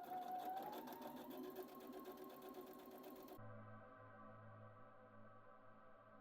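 A domestic sewing machine stitches the assembled side and shoulder seams of a jacket lining in a steady continuous run, close and alone, its motor hum changing pitch partway through.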